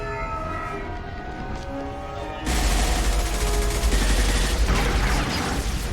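Gunfire in the video game Mass Effect, a sudden loud, dense stream of rapid weapon fire that begins midway after a quieter stretch with a siren-like tone, continuing steadily and close until the end.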